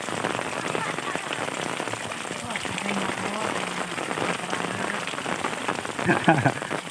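Heavy rain falls steadily in a rural village with a constant patter of drops, while a voice talks faintly underneath and a brief clatter comes near the end.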